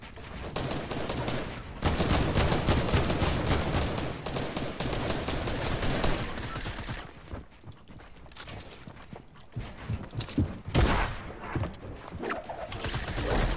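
Rapid bursts of gunfire in a Fortnite Battle Royale duos match, loud and dense for the first several seconds, then thinning into scattered shots and footsteps with a few sharp reports late on.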